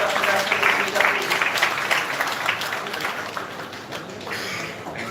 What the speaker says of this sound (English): A big round of applause for Dr. Russell D'Souza, please.